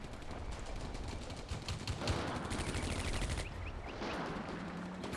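Sustained gunfire in the WWII strategy game Combat Mission: Barbarossa to Berlin, an anti-aircraft gun firing at an aircraft: dense, continuous bursts of shots, loud and steady throughout with no talking.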